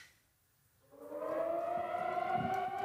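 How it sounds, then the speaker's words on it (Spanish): Civil defense sirens rise from near silence and wail steadily over Warsaw to open commemorations of the Jewish ghetto uprising anniversary, a distant sustained tone with layered harmonics. "En la capital polaca se escucharon sirenas para marcar el inicio de las conmemoraciones"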